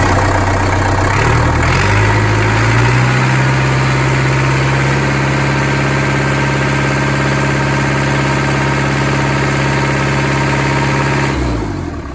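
A car engine cranks, catches and settles into a steady, loud hum at about 75% throttle, holding even for several seconds before cutting off at the end.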